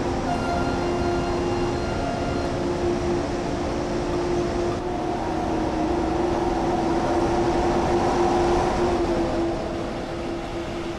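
Train accelerating in the video game Train Sim World, a loud constant rumble with a steady humming motor tone that holds throughout and swells slightly toward the end.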